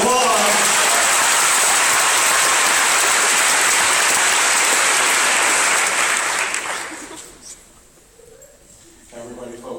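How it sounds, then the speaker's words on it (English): Loud, dense applause from a hypnotist show audience fills the room for about seven seconds, then fades away, and a voice begins speaking over the quieting crowd. "Give a big round of applause."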